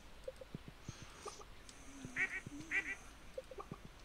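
Ducks quack in the farming game Stardew Valley, a few short scattered quacks with small clicks and soft tones between them, fairly quiet and heard alone without talk.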